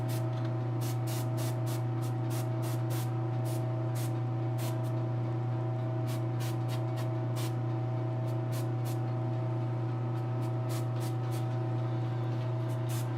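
An airbrush sprays paint onto a custom Donna Troy statue in repeated short bursts, close and hissing, over a steady loud compressor hum.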